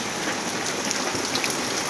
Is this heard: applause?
no